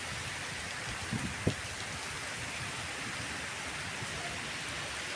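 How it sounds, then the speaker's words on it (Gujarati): Steady, heavy rain pours down in a dense, even hiss during a thunderstorm, with a couple of brief low thumps early on. "વીજવદ સાથે છે વરસાદ આજે"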